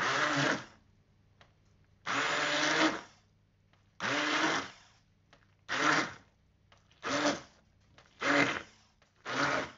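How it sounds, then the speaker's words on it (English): A stick blender purees cauliflower for a low-carb pepperoni pizza casserole, seven loud whirring bursts separated by short pauses, each pulse shorter than the last. "I knew I was going to use the stick blender"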